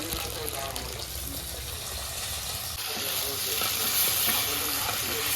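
Dried mango and brinjal frying in oil in a clay pot over a wood fire, a continuous close sizzle with stirring scrapes that grows slightly louder midway.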